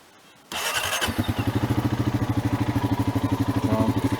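A Honda Rancher ATV engine cranks and catches, then settles into a fast, rhythmic idle chug, loud and close, with no one speaking.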